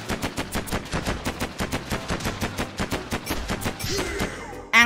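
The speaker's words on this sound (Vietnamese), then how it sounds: "Hãy đỡ súng cool siêu liên hoàn của ta đây." Machine gun fire in the Mini World video game: a long, loud, rapid and steady burst of shots that stops with a sharp different noise at the very end.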